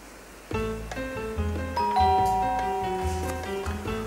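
A doorbell rings once in a home scene from a Croatian TV show, a clear chime of several ringing tones that ring out and decay over a few seconds, with no voices.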